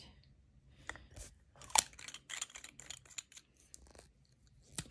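Quiet small clicks and plastic scraping as an ink cartridge is pushed into a Platinum fountain pen, with one sharper click near the middle.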